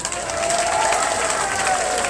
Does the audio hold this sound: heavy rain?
no